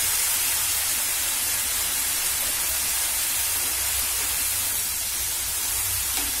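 Water is added to a hot pan on medium gas while cooking Bengali cabbage snack balls, giving a constant loud hissing sizzle of steam that runs unbroken throughout.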